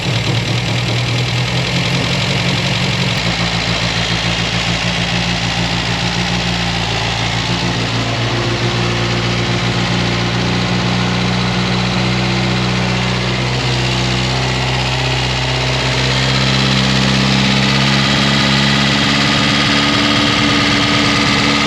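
A Classic Mini engine fires up and settles into a steady, slightly knocking idle, running loud and continuous for about twenty seconds with no talk over it.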